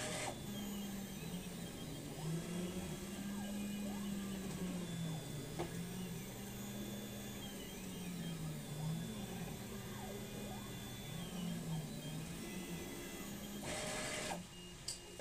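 A homemade SMD pick-and-place machine drives its axes, giving a faint, continuous stepper-motor whine that sweeps up and down in pitch as it moves, with a quiet voice briefly over it.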